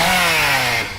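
A chainsaw attack in the video game Shadowrun Chronicles gives a short, loud, harsh revving buzz lasting about a second, then tapering off at the end.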